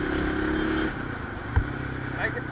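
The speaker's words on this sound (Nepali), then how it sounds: "बाइक यस्तो हराम कुद्छ होइन।" A motorcycle rides along the road to Begnas Lake near Pokhara, its engine a low, steady hum with a single dull knock partway through.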